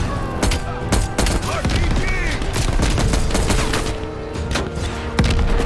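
Loud rapid gunfire in Call of Duty Black Ops Cold War, with sustained automatic bursts and sharp individual shots over a rumbling background, close and intense throughout.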